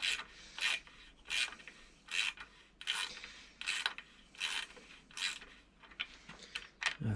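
Unscrewing the shock absorber on a Kaabo Mantis electric scooter gives a run of about ten close, rhythmic rasping strokes, like a ratchet or tool turning, evenly spaced with no talking.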